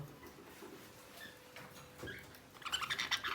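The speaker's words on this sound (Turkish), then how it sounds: "Bugün size benim muhabbet kuşlarını çekeyim dedim." Pet budgerigars chirping in a home aviary in the morning, starting as faint scattered tweets and swelling into a dense burst of bright, close chatter near the end.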